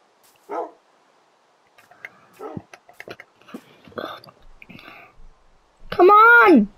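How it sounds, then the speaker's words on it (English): Dogs barking in the video game Minecraft, a few short yips and barks spaced apart, then a louder drawn-out whining or howling call at the end, with a voice talking in between. "Oh, your dogs are here."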